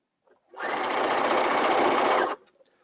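A sewing machine stitches a hem on stretch fabric, running in one steady whirring burst just under two seconds long, close and clear with quiet handling noise before and after.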